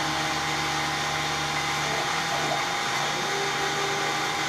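A CNC router spindle running at about 4,500 RPM while carving a wooden custom emblem gives a steady, loud, continuous high whine with a constant tone and no pauses.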